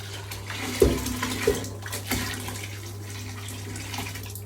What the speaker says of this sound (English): I'm gonna take a bath as well.